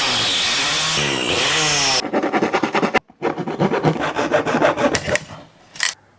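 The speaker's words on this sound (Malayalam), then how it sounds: "ഈ ഒരു പീസ് നമുക്ക് കട്ടർ ഉപയോഗിച്ചിട്ട് കട്ട് ചെയ്തെടുക്കാം കേട്ടോ" Fish-box material being cut with a cutter for a DIY incubator: a continuous loud rasping cut, then a series of short scraping strokes with a brief pause, close and alone without talk.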